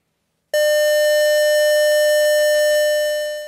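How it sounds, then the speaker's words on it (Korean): A memorial silence siren sounds at 10 a.m. for the 75th anniversary ceremony of the Yeosu-Suncheon incident in Goheung, a sudden, loud, sustained steady tone that holds alone before slowly beginning to fade. "오전 10시 묵념 사이렌이 울려 퍼집니다"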